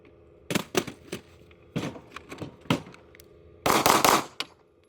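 A pistol is taken out of a Stopbox lockbox after a drop test and fired outdoors, giving several loud sharp shots, some in quick pairs, ending with a closer rapid burst.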